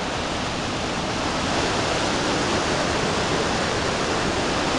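The Wallowa River spills over a dam in an open outdoor setting. A constant, broad roar of rushing water holds steady from start to finish, with no voices.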